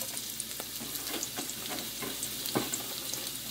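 Onions sizzle and fry in very hot grease in a pan for onion gravy, a loud steady crackle with occasional pops and stirring clatter, no voices.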